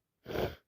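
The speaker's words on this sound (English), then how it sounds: "I'm going to sneeze on you." A single short, breathy sneeze from someone with a bad, wet cold, close and fairly soft, lasting under half a second with silence before and after.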